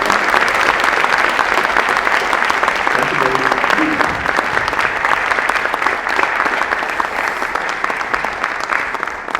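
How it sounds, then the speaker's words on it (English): A lecture audience gives a sustained round of applause welcoming the speaker, dense, loud clapping from many hands that holds steady for over nine seconds with a faint voice briefly heard underneath. "Give him a round of applause."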